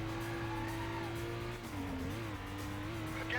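A fast car in the Stuntman game holds a strained, steady engine note with tonal tire squeal and sliding sounds shifting in pitch, loud and close throughout.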